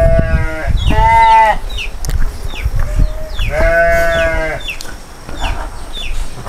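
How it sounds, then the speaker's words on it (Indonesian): Sheep in a village sheep pen bleat loudly and close, two long wavering calls a few seconds apart with fainter bleats and chicken-like calls around them after rain. "Nih kandang domba."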